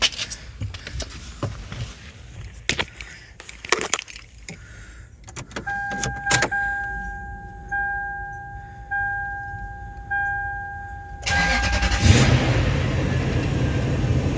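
Clicks and clunks give way to a Toyota Sequoia V8 engine cranking and firing up after a timing belt replacement, settling into a steady idle, with a chime pinging alongside and a louder rev near the end.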